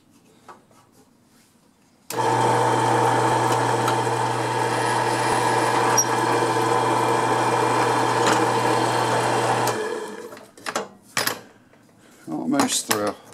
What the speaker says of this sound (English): It's just a matter of drilling some holes here in the fence, so that'll only take a second